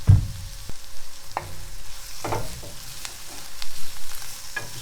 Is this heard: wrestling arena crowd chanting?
no